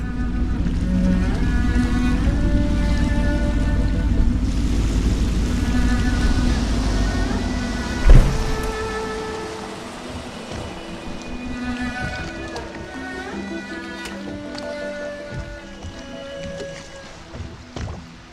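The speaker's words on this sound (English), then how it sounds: "I should concentrate on piloting this boat" A boat being piloted in the video game Dishonored, a steady low engine rumble with water wash. One sharp thump comes midway, then the motor noise softens beneath faint musical tones.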